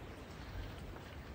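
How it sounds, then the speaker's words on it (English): Soft, steady rainfall patters continuously at a low level, a faint even hiss with no voices. "But it has not stopped raining"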